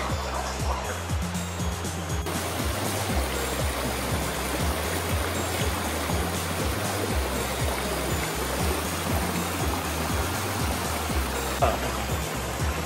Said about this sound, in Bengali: এই যে ছোট একটা পাহাড় থেকে ঝর্ণার মতো নেমে এসছে, আর এখানটা দেখেন কি স্রোত।